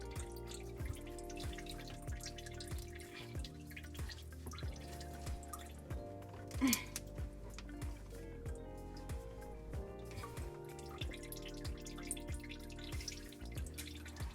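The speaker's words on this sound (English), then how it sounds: "I'm gonna wait till this water stops dripping" Water drips in a sink after a garbage disposal repair, with faint, irregular drops over a low steady hum and one louder splash partway through.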